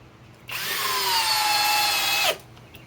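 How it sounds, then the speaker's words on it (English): A Flex compact hammer drill drives a 5-inch LedgerLOK screw into wood in one steady, loud, whining run of nearly two seconds, the motor pitch sagging slightly under load before stopping abruptly. "let's go back to the Flex compact hammer drill with another 5-inch ledger lock"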